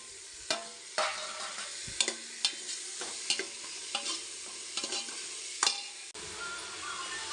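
Onions frying with crushed ginger and garlic, then tomatoes, in a pan for rice and dal, a soft steady sizzle broken by regular sharp scrapes and taps of a stirring spoon, with no voices.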